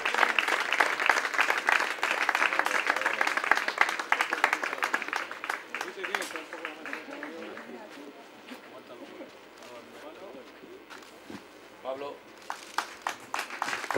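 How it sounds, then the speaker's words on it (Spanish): A crowd at a bolos (skittles) trophy award ceremony in Santander applauds steadily for several seconds, the clapping fading and thinning before a few scattered claps pick up again at the end. "Aplauso al tercer clasificado de cadetes, Pablo Sañudo."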